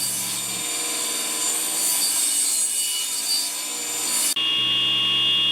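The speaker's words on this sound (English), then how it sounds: "I'm just going to shave the edge and kind of get the rounded corners off." Steady rasping wood-shaving noise as a board edge on a DIY folding work table is pared to take off the rounded corners, continuous for several seconds and close by, with a brief break before a higher tonal whine near the end.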